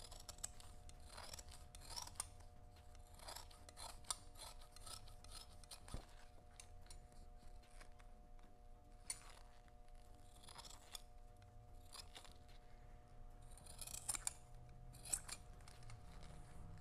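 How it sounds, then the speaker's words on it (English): Carbon fiber cloth being trimmed off a DIY paddle board, heard as a series of close, quiet snips and rasping cuts at an irregular pace, with no talking. "Cut some of this excess off."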